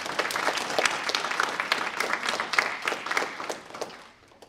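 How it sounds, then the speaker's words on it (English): A ceremony audience applauds new inductees at the PTKAW Spring 2019 induction and awards event, with dense, steady clapping from many hands that tapers off near the end and no talking over it. "A round of applause for our new colleagues and congratulations."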